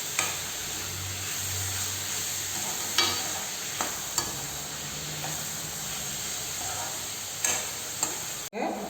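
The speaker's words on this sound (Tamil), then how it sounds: "உப்பு சேர்த்து ஒரு 2 நிமிஷம் வதக்கலாங்க." Mushrooms with salt sauté in a pan for kurma, giving a steady close sizzle and hiss. Occasional scrapes and clinks come from a stirring spoon against the pan. No one talks.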